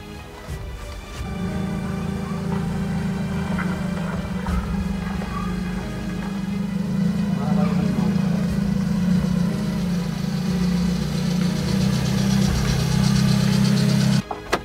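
A car rolls up and idles nearby, its steady low engine hum and rumble holding for over ten seconds before cutting off with a faint knock, no talking over it.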